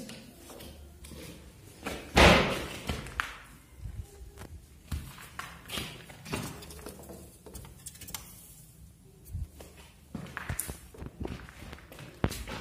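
A construction worker runs through a house under renovation, leaving irregular thumping footsteps and scattered knocks with one loud, sharp impact early on, heard fairly close in a reverberant room.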